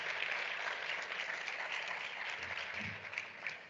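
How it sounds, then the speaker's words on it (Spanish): Conference audience gives a steady round of applause, moderately distant and fairly even in density, with a few louder claps near the end. "dense un aplauso, ustedes"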